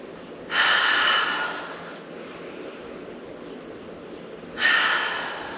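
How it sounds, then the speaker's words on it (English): Slow, deep breathing during a yoga arm sequence, the inhale and exhale set against arm movements: two loud, airy breaths close to the microphone, separated by a quieter stretch of soft air. "And just a few times, breathing here. Maybe the inhale lifts and the exhale sweeps down."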